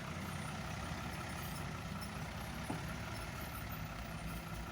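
A truck with a Euro 2 220 turbo diesel engine and a cable throttle idles nearby, holding a steady, low, continuous rumble with no changes in revs.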